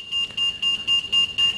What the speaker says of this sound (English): dan gaat het alarm af